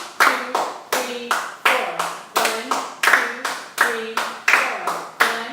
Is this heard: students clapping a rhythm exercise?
yes